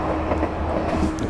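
A BB26000 locomotive hauls a freight train in a train simulator, giving a steady rumbling roll with faint rhythmic rail clatter, close and continuous with no talk.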